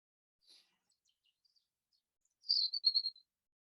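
A few faint, high chirps from a bird in a quiet, calm setting: a soft call early on, then a brief clearer burst of quick notes near the end, with near silence between.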